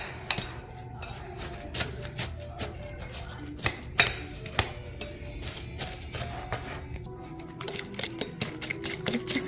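A utensil clinks and scrapes in a bowl while brown sugar and ketchup are blended together, irregular sharp taps and knocks over a soft mixing rustle.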